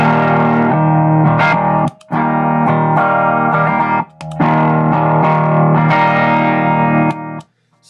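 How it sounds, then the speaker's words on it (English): Electric guitar through a ModTone clean boost pedal into a tube amp's clean channel plays loud, driven chords in bursts with short silent breaks, the boosted tone pushing toward slight grit. "Now you're going to hear a substantial volume boost though on the clean channel."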